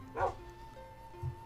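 A dog in a Minecraft game gives two short yips a second apart, fairly quiet, over a faint steady hum.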